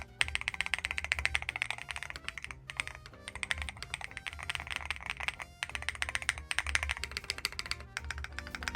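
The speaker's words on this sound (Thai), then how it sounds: "Switch OLED TIHE ใช้แรงกดน้อยกดนุ่มสัมผัสละมุน เสียงที่ได้บอกเลยว่า ดีงามมากๆถูกใจคนรักเสียงคีย์บอร์ดสุดๆ" Fast typing on an ATK x QK HEX80 magnetic keyboard fitted with OLED TIHE switches, a close, steady stream of crisp keystroke clacks in bursts with brief pauses between them.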